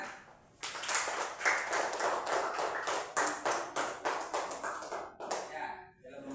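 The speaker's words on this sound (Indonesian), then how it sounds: "Tepuk tangan." Classroom applause at an elementary school: a group of pupils clapping in a dense, steady patter that starts abruptly and runs for several seconds before fading out.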